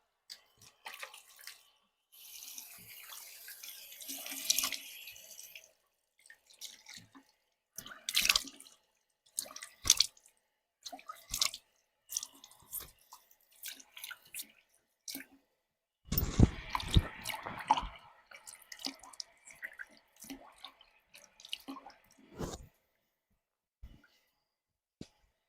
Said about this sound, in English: now we're going to rinse this cleanser off and we're going to rinse it clean